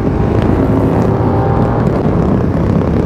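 A KTM 1390 Super Duke R motorcycle accelerates hard, its exhaust a dense, continuous roar mixed with heavy wind buffeting on the microphone, loud and close throughout.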